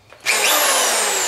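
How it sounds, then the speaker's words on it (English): A loud, large power drill bites into aluminum on a boat transom, a steady high whine and grinding that starts abruptly and holds without pause. "Yeah, gotta get the big drill."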